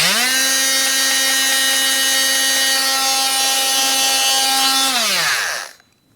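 An oscillating multi-tool with a fine-toothed blade cuts into wood while fitting a loft hatch, giving a steady, high buzzing whine that holds for about five seconds and then winds down to silence.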